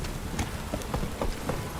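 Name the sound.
rain downpour in a video game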